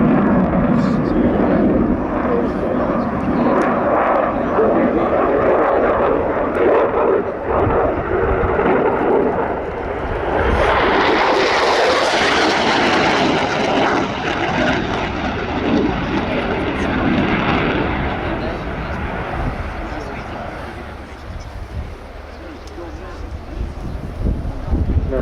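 A military jet makes a high-speed pass at the RIAT airshow, a broad, loud engine roar rising to a peak and gradually receding, buffeted by wind noise with a voice talking over it.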